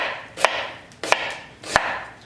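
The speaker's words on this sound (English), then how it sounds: "Keep slicing." Knife slicing food on a cutting board: three crisp, close chopping strikes spaced about two-thirds of a second apart, with no talk.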